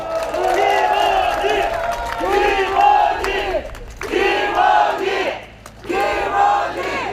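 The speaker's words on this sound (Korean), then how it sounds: "다시 한번 우리 정치 초단 김원희 후보에게 다시 한 큰 박수와 연호를 부탁드리겠습니다" A crowd at an outdoor election campaign rally in a park in Mokpo, South Korea cheers, shouts and chants in loud repeated bursts separated by short lulls, with voices mixed through the noise.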